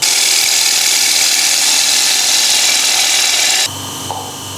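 Wooden bowl turning on a lathe, a loud steady broadband hiss of the cutting tool on the spinning wood for several seconds, then cutting stops abruptly, leaving the lathe running quieter with a couple of faint clicks.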